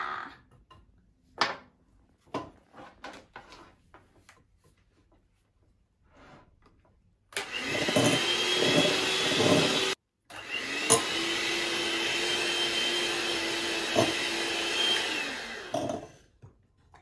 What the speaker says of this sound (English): Now we're going to use the electric mixer.